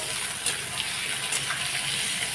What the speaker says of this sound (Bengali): এদিকে আলু আর পেঁয়াজটা ভাজা ভাজা হচ্ছে